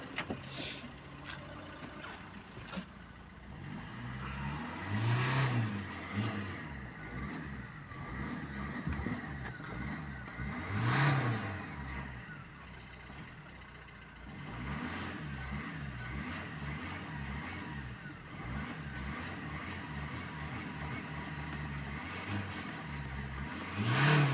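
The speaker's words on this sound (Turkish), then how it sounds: "Şimdi biraz gaza basacağım tekrardan zorlayacağım arabayı." A diesel car engine idles after a fuel and air filter change, then is revved repeatedly as the accelerator is pressed, giving several rising and falling surges over a steady rumble, heard close with no talking.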